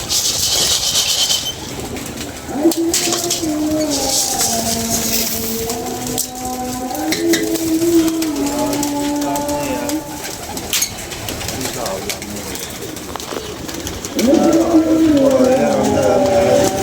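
Pigeons coo in repeated low, wavering phrases close by, over a busy background where someone talks throughout and wings occasionally flutter.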